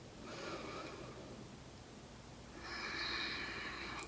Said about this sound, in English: In through the nose, out through the nose